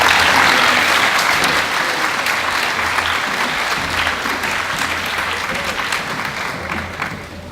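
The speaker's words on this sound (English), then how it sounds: "Could you please give all those recipients a big round of applause?" Sustained applause from a large audience at a school presentation day, honouring award and medal recipients; dense, steady clapping that runs the whole time and tapers slightly toward the end.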